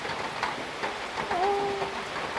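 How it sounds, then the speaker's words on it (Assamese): Rain falls steadily as a soft, continuous patter, faint and fairly distant, with a brief tonal whistle partway through and no talking. "বৰষুণত টোপাল"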